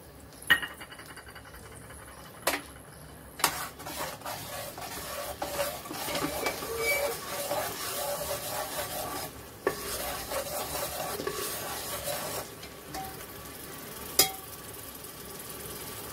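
Ground gravy paste for Hyderabadi palak butter chicken added to a hot pan and stirred, steady sizzling under repeated scraping and clinking of a spoon against the pan, close and moderately loud.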